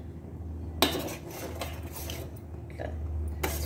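A spoon scrapes and clinks against a metal pot while finger millet kheer is stirred, a few sharp close contacts over a low steady hum, with no talking.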